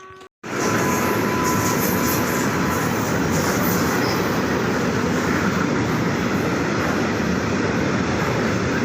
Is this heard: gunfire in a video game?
no